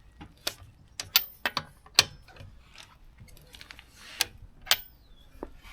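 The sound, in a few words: loosening Vauxhall Corsa wheel nuts with wrench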